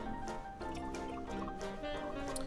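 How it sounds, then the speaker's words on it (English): Cooled homemade cherry syrup pours through a strainer in a makeshift setup, a quiet steady trickle with faint dripping and a low background hum. "Pour these in here."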